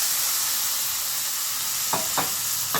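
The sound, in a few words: tomatoes added to sizzling pan of peppers and sausage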